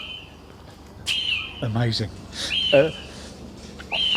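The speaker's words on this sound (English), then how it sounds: "Fantastic bird noises you get here." Birds call at Wat Chang Kam temple in Wiang Kum Kam, Chiang Mai, with several sharp whistled chirps and a lower hooting, cooing phrase in the middle, heard fairly close over faint background hum as a person briefly speaks.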